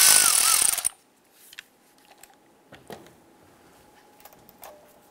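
A 10 millimeter socket wrench works loose the battery terminals on a 2008-2013 Nissan Rogue: a brief loud harsh burst, then faint scattered clicks and metallic taps close by.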